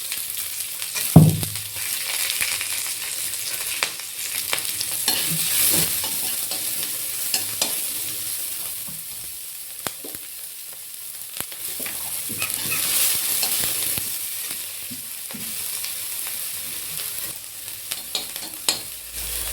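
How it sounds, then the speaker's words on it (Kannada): Finely chopped onions and green chillies frying in a pan for Gobi Manchurian make a continuous close sizzle, with scattered crackles and scraping stirs throughout. "ಇದನ್ನು ಚೆನ್ನಾಗಿ ಹುರ್ಕೊಳ್ಬೇಕು. ಹಸಿ ವಾಸನೆ ಹೋಗೋವರೆಗೆ ಹುರ್ಕೊಂಡು ಗೋಲ್ಡನ್ ಬ್ರೌನ್ ಆಗೋ ತನಕ ಹುರ್ಕೋಬೇಕಿರಲ್ಲ."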